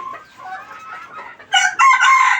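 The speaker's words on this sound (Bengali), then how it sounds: "এই যে নতুন মুরগ, এইগুলো" A rooster in a small backyard poultry setup crows nearby, then loud, close clucking from the new chickens comes in short bursts.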